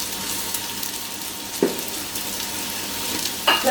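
Potatoes hit rapeseed oil in a pan, with a steady close hiss of frying and two brief bursts of louder sizzle and clatter as they go in.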